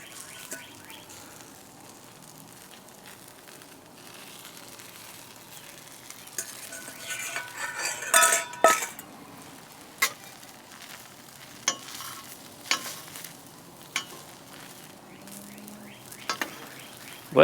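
Ham, Canadian bacon, peppers and onions sizzling in a countertop pan, a steady low frying hiss with occasional scraping stir clicks growing more frequent toward the end, with no talking.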